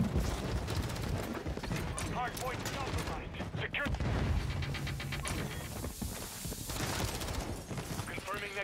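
Dense bursts of gunfire and explosions from a Call of Duty match rattle almost without pause, loud and layered, with a player talking over the shooting.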